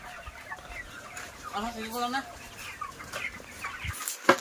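Broiler chickens, 28 days old, cluck and chirp softly at a poultry farm, with a low murmur of birds in the background. A person talks nearby.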